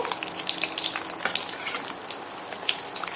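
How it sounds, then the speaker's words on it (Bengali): Milk powder paratha frying in hot oil gives a steady, dense sizzle that holds evenly throughout, close and fairly loud, with no voices. "আবারও আমি আর একটা ভেজে দেখাচ্ছি"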